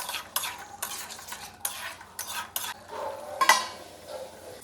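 Chicken kala bhuna being stirred in a pan after garlic cloves, slit green chillies and chopped coriander go in: repeated scraping strokes of a spoon against metal over a soft sizzle, with a sharper clink near the end.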